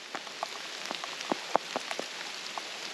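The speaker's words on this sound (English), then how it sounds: "this is the hardest downpour we've had all day" Heavy rain falling on a hiking trail near Perth, scattered sharp drops pattering on a nearby surface over a soft steady hiss, fairly quiet and with no one speaking.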